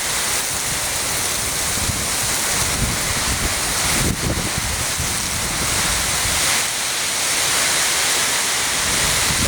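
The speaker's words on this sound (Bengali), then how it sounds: "তবে অনেক প্রচণ্ড বৃষ্টি, সকলের কাছে শুধু বৃষ্টি নয়, অনেক ঝড়ঝাপটা চলতেছে" Heavy rain and gusting wind from a nor'wester storm pour down steadily at a madrasa building, a dense, loud, unbroken roar with no talk.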